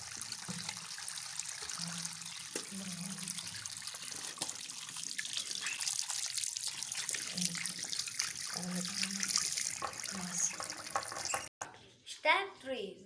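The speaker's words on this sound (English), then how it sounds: "Step 2, we should wash our hands till 20 seconds." Hands being washed under a running tap, a steady broadband rush of water that continues for about eleven seconds with soft low thumps and splashes as hands move, ending in a brief clatter and rustle.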